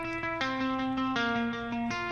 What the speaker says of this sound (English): I'm going to add this next electric guitar, which is sort of like a little electric noodle over the top of it